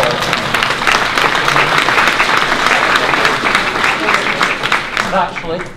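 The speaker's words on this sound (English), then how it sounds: "A round of applause." Audience applause at a computer science teaching talk, a loud sustained burst of clapping from a room of people, with a voice speaking over it near the end.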